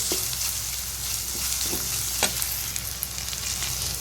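Ginger garlic paste sizzles in a pan for a lunch box dish, a close, continuous frying hiss with a few sharper spatters and stirring scrapes.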